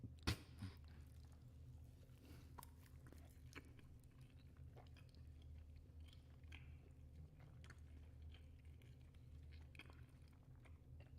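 Someone crunches and chews an egg roll close to a podcast microphone: faint, repeated bites and chewing that run steadily with small crackling bursts.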